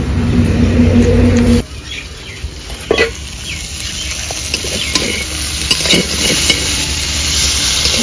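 Steady sizzling and crackling of pointed gourd frying in a covered pan, with soft scraping clicks scattered over a constant hiss; no voices.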